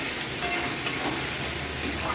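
Spring onion heads frying in a pan for chili chicken give a steady, close sizzle with soft crackles throughout and no voices.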